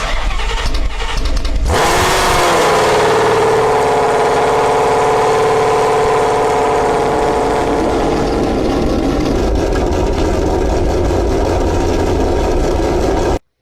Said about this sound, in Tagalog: pakinggan nyo naman yung Mustang para malaman ninyo kung ano ba yung tunog ng tambucho nito